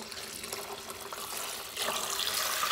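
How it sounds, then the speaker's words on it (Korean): Water is poured over soaked malt while making sikhye, a steady close splashing flow that grows louder near the end, with no talking. "물을 부어주세요."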